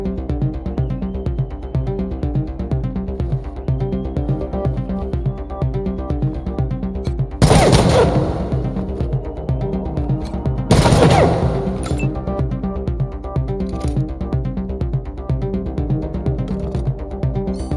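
Gunfire in Wasteland 3 video game combat: two sharp, loud bursts about three seconds apart that crack over a steady bed of game music and then decay.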